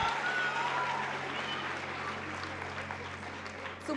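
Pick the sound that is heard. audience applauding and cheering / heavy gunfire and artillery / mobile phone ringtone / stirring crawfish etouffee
audience applauding and cheering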